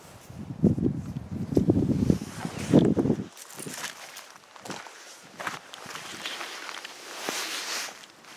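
Gusty wind buffets a microphone at a campsite near Cold Creek, with heavy low rumbling blasts early on, then lighter rustling and scattered footsteps on dry ground.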